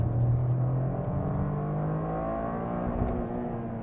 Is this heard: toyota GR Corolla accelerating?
yes